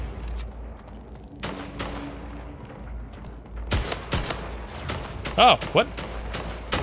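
Rapid gunfire bursts crackle in the Splitgate arena shooter, with a cluster of sharp shots near the end and a voice reacting over the action.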